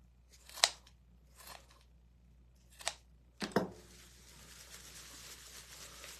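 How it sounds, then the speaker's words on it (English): A few crisp scissor snips sound close by, spaced apart, followed by a rustling crunch of raffia being cut and handled. "let's take the for real scissors to it"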